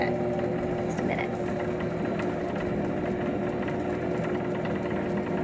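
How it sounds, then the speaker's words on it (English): An electric hand mixer whirs steadily through cream cheese pound cake batter, a constant close motor drone throughout with no pauses. "then you just use your mixer and mix it"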